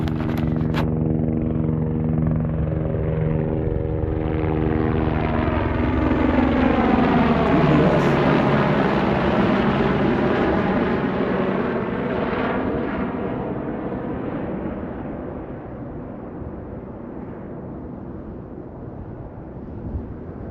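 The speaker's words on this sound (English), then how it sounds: "oh shit, there's a helicopter." A helicopter flies overhead near the Juarez border area, its loud rotor and engine roar swelling as it nears, with a clear pitch shift as it passes, then slowly fading away, alone with no talk.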